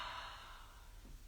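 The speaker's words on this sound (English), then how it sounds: "Big breath in. Big breath out." A deep yoga breath flows out as one long, soft, airy exhale that fades gradually, close and quiet.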